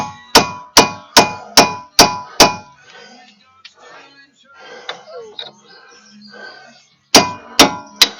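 A hammer strikes a pin punch to drive a broken clip out of a 2003 Silverado front wheel hub assembly. Six evenly spaced, ringing metallic blows come first, then a pause with someone talking, then three more strikes.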